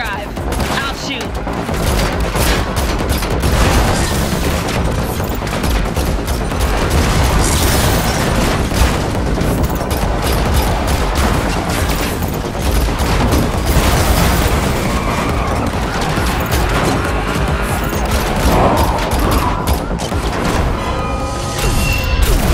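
Dense, continuous gunfire and crashing impacts in a car chase from The Matrix Awakens Unreal Engine 5 demo, loud and relentless with booms under a thick action mix, voices briefly heard.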